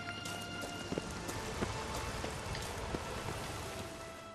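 Steady rainfall patters across the ground in The Witcher 3: Wild Hunt, a soft continuous hiss dotted with scattered droplet ticks, fairly quiet and with no one talking over it.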